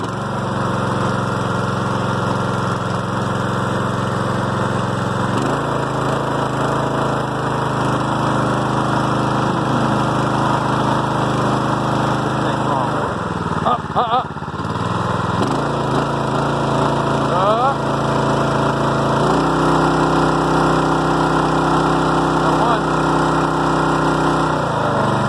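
A small gasoline trash pump engine running an irrigation setup, droning loudly and steadily close by, with its pitch stepping up as the throttle is boosted, dipping briefly in the middle, then rising again.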